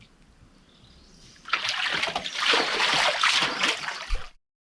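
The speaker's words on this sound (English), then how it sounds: "because the water is constantly flowing, so it stays wet coming from this source" Water flows steadily from a source in an abandoned water collection system, starting as a faint trickle and then turning into a loud, close, continuous splashing gush that stops abruptly.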